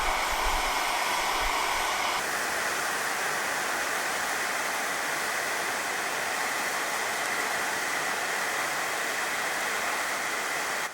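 Ammonium dichromate decomposing in a chemical volcano gives off a loud, steady, hissing rush like a blowing dryer, unbroken for the whole stretch, with a few low thumps at the start.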